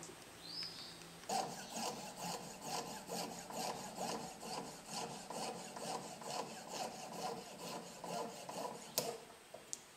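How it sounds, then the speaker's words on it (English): Hand sawing and scraping on a bone insert set into a seax handle, close and rhythmic with rapid back-and-forth strokes running steadily for several seconds after a brief pause. "the excess cut off and the surface scraped to form a dome"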